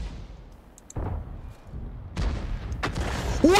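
An artillery gun fires in the tank game World of Tanks, giving heavy booming shots with rumbling tails over a steady battle din, the loudest blasts near the middle and end.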